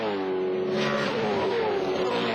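V8 Supercars race cars at the 2008 Bahrain race, a loud engine note rising and falling as a car brakes into a corner and then powers hard out of the exit, close and alone.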